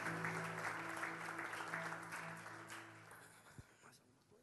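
Church congregation applauding during a Sunday service, a steady patter of clapping with a sustained organ or keyboard chord beneath, gradually fading toward the end.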